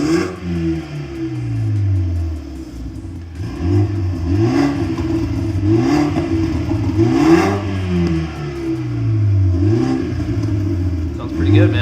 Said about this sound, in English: Just installed the Active AutoWorks Axleback exhaust system.